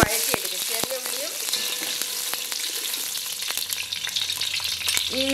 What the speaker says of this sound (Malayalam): ആ സമയത്ത് നമ്മൾ ഈ ചെറിയ ഉള്ളി ഇതിലേക്ക് വഴറ്റിയെടുക്കും.